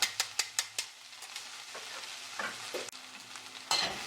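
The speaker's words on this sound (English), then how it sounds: "Here is where we're going to introduce the shrimp back" Shrimp tossed in a hot pot for pepper shrimp, with a run of sharp clattering knocks at the start, then a steady close sizzle and frying hiss with scraping stirs and a few louder bumps.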